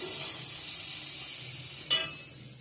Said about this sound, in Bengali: বেগুন ভাজাটা হয়ে গেছে